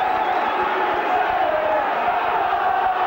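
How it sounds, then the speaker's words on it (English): A rugby league crowd at St Helens in 1989 roars steadily behind the home side against New Zealand, a dense, sustained wall of cheering and shouting from the stands. "Stuart Evans and the Nosey Road crowd are getting behind their side."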